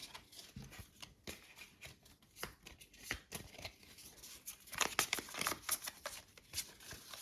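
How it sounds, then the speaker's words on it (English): A deck of game cards for the Shadows of Brimstone board game is shuffled repeatedly, making close, crisp riffling and flicking bursts that build to a denser flurry near the end. "So you can shuffle these up."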